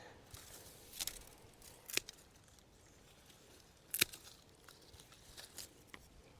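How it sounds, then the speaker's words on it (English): Pruning shears snipping the new growth of a perennial in a garden bed give three or four faint, sharp clicks spaced a second or two apart over soft outdoor rustling. "I want to cut any of the new growth."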